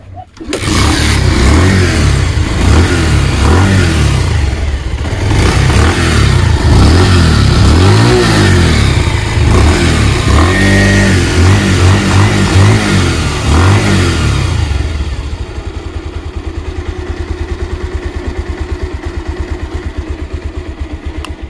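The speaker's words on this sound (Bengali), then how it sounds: "বাইকটির সাউন্ড কন্ডিশন তার জন্য কিক দিতে হবে যেহেতু ব্যাটারি ডাউন" A Bajaj Pulsar motorcycle with a flat battery is kick-started and revved hard and loud for about fifteen seconds, then drops to a steady, quieter idle; the engine is heard alone, close up.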